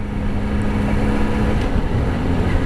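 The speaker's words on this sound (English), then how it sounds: "This guy, I think up in this F250, has a loud exhaust on it" A Ford F250 pickup truck with a loud aftermarket exhaust rumbles along a busy road, a low, steady drone with wind noise over it, heard from a rider on a motorcycle nearby.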